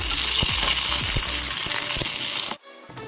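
A tempering of cumin, a dried red chilli and curry leaves fries in hot oil for chutney, a loud close sizzle with a few spoon clinks before it stops suddenly.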